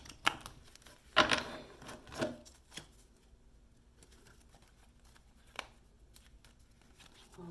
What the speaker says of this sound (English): I'll go ahead and shuffle the cards a little bit